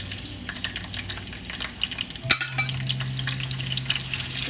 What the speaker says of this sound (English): So my oil is hot right now. So what I'm going to do is I'm going to add in my chilies first.